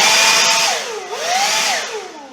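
A DEWALT 60-volt cordless leaf blower runs close by with a loud, steady whine that dips and rises in pitch as the throttle changes, heard alone.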